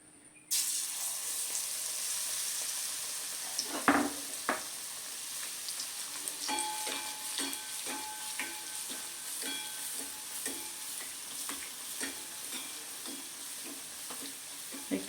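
Battered eggplant fritters (beguni) deep-fry in hot oil, a steady, close bubbling sizzle that jumps up sharply as a piece drops in, followed by ongoing crackles and occasional clinks without talk.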